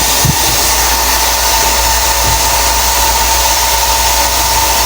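A steady, droning water pump engine runs continuously at close range with a constant hum and no pauses.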